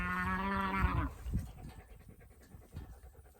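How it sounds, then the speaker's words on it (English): A cow gives a strained, drawn-out call with a tonal, wavering pitch for about a second, followed by softer breathy snorts and rustling nearby. "Speaking of weird noises cows make, Dr. Erin Schroeder"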